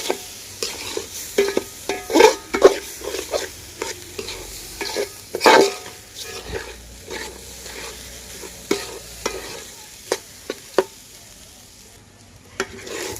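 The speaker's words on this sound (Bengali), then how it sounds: "এই পর্যায়ে চাল আর ডালটাকে খুব ভালোভাবে ভেজে নিয়েছি।" Rice and lentils for beef bhuna khichuri are fried in a pot with repeated scraping, stirring clatters against a steady low sizzle, the utensil strokes coming in irregular bursts close by.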